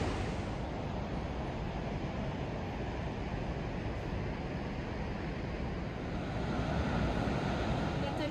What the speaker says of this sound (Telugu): ఇది యూరోప్ లార్జెస్ట్ వాటర్ ఫాల్